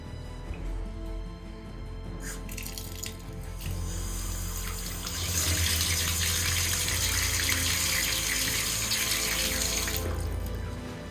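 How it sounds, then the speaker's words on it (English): Water pours steadily from a tap into a stone and wood sink and drains away, a continuous rushing wash that swells louder partway through, with no voices. "Drains perfectly."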